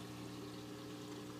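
Water flowing and pouring steadily through a saltwater aquarium sump, a constant close trickling wash with low hum underneath, no talk.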